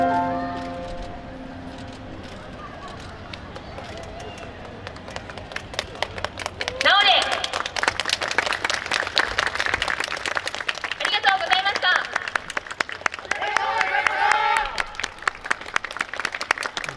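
Crowd applause follows a Hamakoi dance team's performance at the Hamakoi 2022 festival, with dense clapping building up and continuing loudly, briefly under a voice over the public address.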